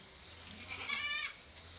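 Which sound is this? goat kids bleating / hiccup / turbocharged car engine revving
goat kids bleating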